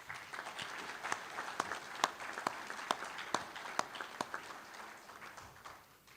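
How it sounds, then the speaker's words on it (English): Faint audience applause at a convention general session, scattered claps with a few sharp louder ones, thinning and tapering off toward the end, heard from a distance with no talk. "let's give them one more round of applause"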